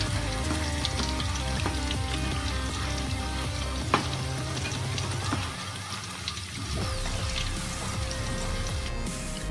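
Pepper chicken gravy frying in a pan with coriander added crackles in a dense, continuous sizzle, close and fairly loud, with stirring mixed in.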